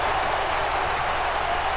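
Arena crowd in a WWE 2K wrestling game in El Paso, a steady dense roar of cheering and clapping at close, even loudness throughout.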